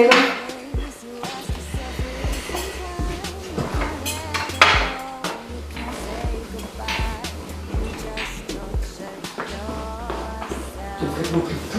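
Dishes, pots, pans and cutlery being washed: continuous clattering and clinking of crockery and metal utensils, irregular and close, with people talking over the sounds throughout.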